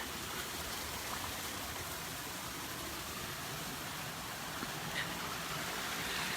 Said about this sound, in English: the main acequia is still flowing while we divert some down our side